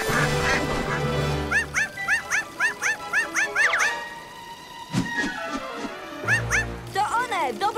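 Cartoon ducks quack in quick repeated bursts, mixed with dog-like yips and whimpers, while a character speaks over them in an animated children's show.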